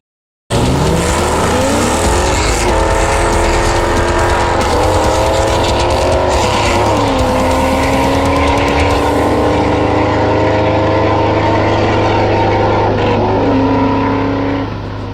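Two cars, a 2001 Mustang Bullitt and a 2001 WS6 Trans Am, roar loudly side by side on back roads, revving and shifting through gears in a sustained, close, high-pitched whine.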